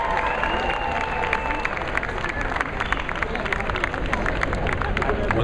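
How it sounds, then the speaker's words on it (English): An audience at a Comic Con 2010 panel for the film Let Me In breaks into dense, sustained applause with scattered cheers. The clapping is loud and continuous throughout. "Give a round of applause."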